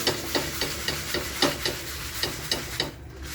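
A bhakri flatbread is tossed and rubbed around a tava in leftover oily karandi thecha, giving a steady run of rhythmic scraping and sizzling strokes, close and moderately loud, with no speech.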